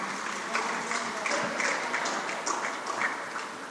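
Mild, scattered applause rises from the stands at a basketball invitational game, a soft, uneven patter of clapping in a gym with faint crowd murmur underneath.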